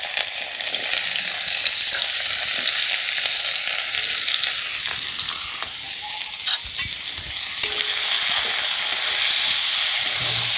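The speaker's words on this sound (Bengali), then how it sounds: "এই পেঁয়াজ আর কাঁচা লঙ্কাটা দিয়ে দেবো।" Onion and green chili frying with mashed potato in a pan, giving a loud, constant hissing sizzle with occasional faint spatula scrapes, close and continuous, without speech.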